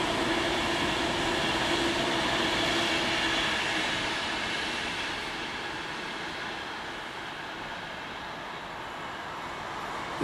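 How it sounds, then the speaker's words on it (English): A non-stopping train runs through South Hampstead station at speed, a steady loud broadband rush of wheels and carriages that eases slightly in the second half, with no voices. "Here comes a train that's not scheduled to stop, apparently, according to the announcements."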